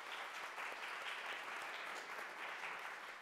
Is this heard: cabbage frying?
no